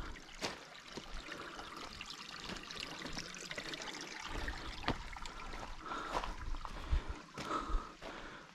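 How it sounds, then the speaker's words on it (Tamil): Water trickles faintly and steadily on a rocky mountain trail at a hidden oasis in Fujairah, with soft splashes and a few light knocks over a quiet outdoor background. "தண்ணி ஊதுது பாருங்க."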